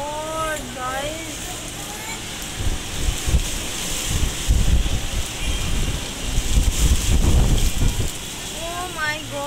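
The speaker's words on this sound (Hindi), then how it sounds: "बहुत तेज बारिश स्टार्ट हो गई है" Heavy rain pours down in a loud, steady wash that swells in the middle, with excited voices and whistling at the start and end.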